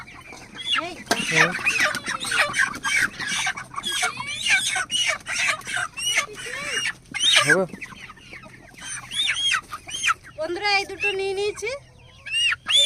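Village chickens cluck and squawk in agitated bursts as they are caught, near and loud, with a person speaking briefly over the flapping commotion.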